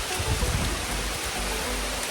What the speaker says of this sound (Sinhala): අන්තිමට දැන් වහිනවා